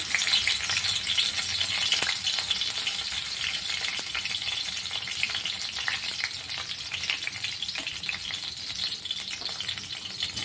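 Green chillies fry in oil in an iron pan, giving a steady, busy sizzle with fine crackling that holds evenly throughout, with no voices.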